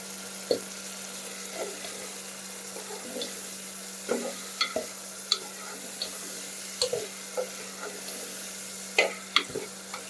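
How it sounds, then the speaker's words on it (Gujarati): Seven-grain khichdo ingredients with green peas being stirred in a pot for a traditional Gujarati dish, giving scattered close scrapes and clinks over a low steady hum. "હવે આ બધી વસ્તુને આપણે હલાવી દઈશું"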